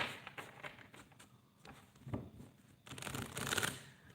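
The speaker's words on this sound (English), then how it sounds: "I'm shuffling the cards for the next person." A tarot deck is shuffled by hand at close range during a live reading, with soft riffling bursts and slaps that come in uneven waves and build to a louder flurry near the end, without any talking.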